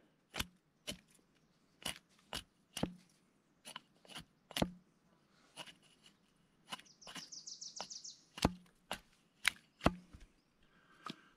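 A Gerber axe chops wood outdoors, sharp distinct strikes falling in a steady rhythm of roughly twenty blows, each a crisp close crack, with faint birdsong chirping in the background.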